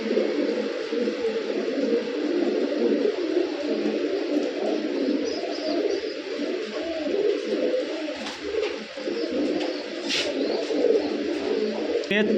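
Musaldom pigeons, a male and female pair, coo softly in low rolling phrases, with steady murmuring from several birds close by and occasional faint chirps over a quiet background.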